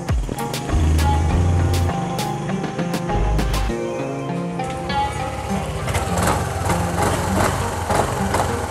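Yamaha Aerox scooter engine idling steadily during a test run after repairing a sudden-stalling fault, close and moderately loud, with intermittent clicks and knocks over the running engine.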